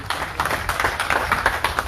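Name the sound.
audience applause at firefighters' congress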